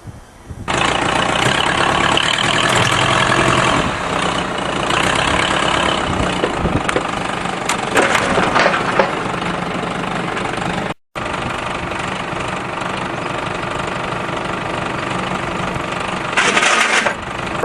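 A Pontiac transport van's engine starts and keeps running after repairs to a broken frame, a loud, steady mid-pitched rumble with a brief cut near the end, no voices.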